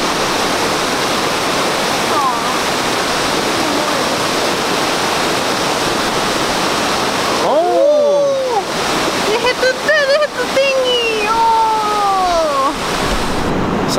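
One of the Seven Waterfalls at Kawazu, Japan pours in a loud, steady roar of falling water close by, continuous throughout, with a voice talking over it in the second half.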